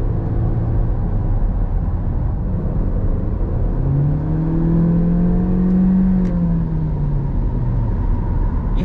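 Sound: car engine revving

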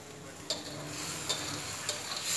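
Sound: chicken spices being stir-fried in a pan

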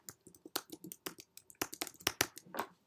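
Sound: typing on computer keyboard

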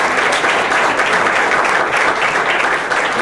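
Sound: audience applause welcoming a speaker

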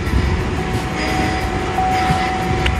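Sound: used car engine running after starting

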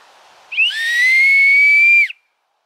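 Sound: homemade wooden whistle being blown

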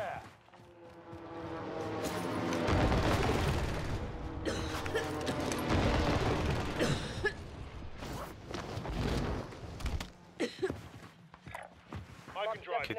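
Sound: precision airstrike explosions in the video game Warzone Caldera

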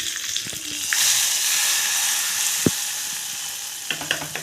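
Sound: curry leaves and asafoetida sizzling in hot oil while tempering

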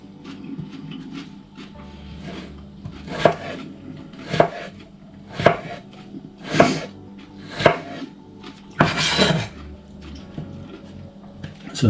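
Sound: knife chopping cucumber into slices

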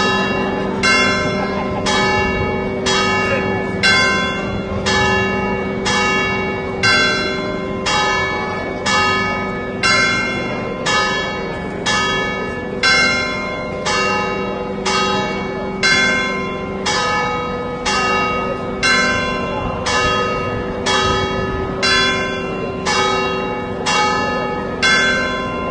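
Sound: church bells ringing

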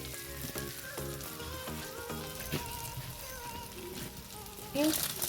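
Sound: lentils added to the pan, sizzling

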